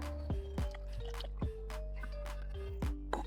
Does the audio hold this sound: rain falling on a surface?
no